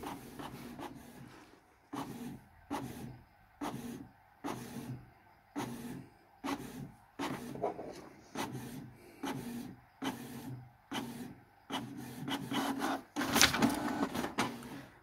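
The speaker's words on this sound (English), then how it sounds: "Press the info button, press the Wi-Fi button, and it will start printing." A Canon Pixma TS3350 inkjet printer prints, giving a steady run of rhythmic mechanical strokes about once a second as the print head shuttles back and forth, close and fairly quiet, with a busier burst of feed noise near the end and no talk.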